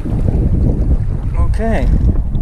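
Strong wind buffeting the microphone while fishing from a boat, a loud steady low rumble throughout, with a brief voice-like call partway through.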